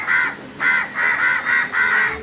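A crow gives a series of five or six harsh caws in a steady rhythm, fairly close and alone.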